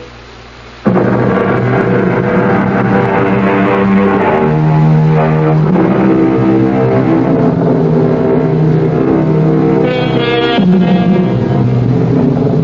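A steady, loud drone of a four-engine jet airliner cruising at altitude, continuous and unbroken throughout after a brief quiet start, with a tonal shift near the end, heard alone without voices.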